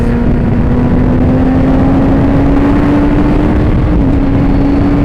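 A sidecar racing motorcycle accelerating hard during practice at Barber, its loud engine howl climbing steadily in pitch with no voices over it.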